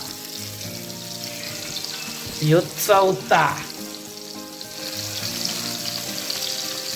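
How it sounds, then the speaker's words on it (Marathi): Four flour-coated fish frying together in a flat pan, giving a steady broadband sizzle throughout, with a brief burst of louder crackling and clatter near the middle as a piece is handled and a few words are spoken. "एका तव्यामध्ये चार डोमे मासे बसलेले आहेत आणि हे हल्लू हल्लू आपण स्टेप बाय स्टेप फ्राय करायचे"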